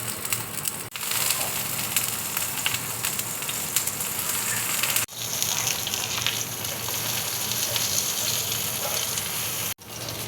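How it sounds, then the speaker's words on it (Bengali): Salted eggplant slices fry in oil on a tawa, giving a loud, continuous close-up sizzle with a couple of brief dropouts and no talking. "এবার বেগুনগুলো আমি এক এক করে তেলে ছেড়ে দিচ্ছি।"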